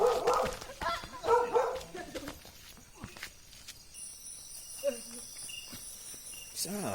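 A big dog barks a few times at a distance over steady crickets, with a person talking close at the start and some footsteps.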